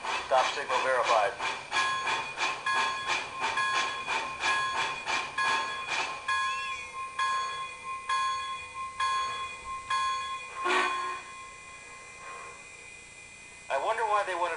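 MTH HO-scale Big Boy model locomotive playing onboard sound effects: repeated metallic chuffs and a steady electronic tone, then a hiss and bell-like pings fading into quieter running, with a burst of chuffing returning at the end.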